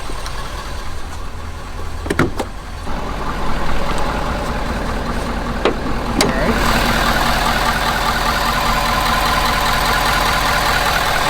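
A warm Ford F350 Powerstroke diesel pickup engine with about 100,000 miles idles steadily nearby, a low rumbling drone with a couple of brief clicks early on.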